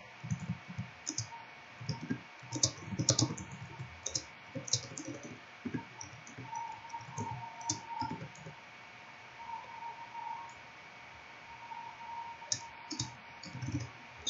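Soft, quick clicks of typing on a computer keyboard while chatting online, irregular bursts of keystrokes with short pauses, quiet and close against a faint steady hum.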